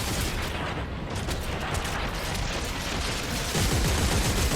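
Gunfire in the video game Dead Space 3: loud, unbroken shooting and crashing blasts packed tightly together across the whole stretch, with no pauses.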